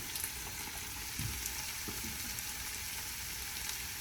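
Shredded potato bites fry in olive oil with a steady, broad sizzle that runs throughout, close and moderately loud, with a couple of faint clicks from handling.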